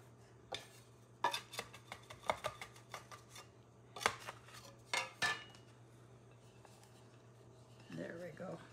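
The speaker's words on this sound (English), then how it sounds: "Now this is a 9-inch pie dish." A 9-inch pie dish being handled in a home kitchen while making pumpkin pie gives a series of close, sharp clinks and knocks, bunched in irregular bursts over a quiet background, with a soft rustle near the end.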